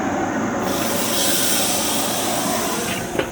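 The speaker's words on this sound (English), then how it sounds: "put it in the grill for a quick sear" A burger sears on a hot grill, giving a loud, continuous close-up hiss that holds steady throughout, with a small knock near the end.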